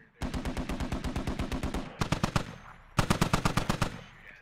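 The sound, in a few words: heavy machine guns firing in the video game Squad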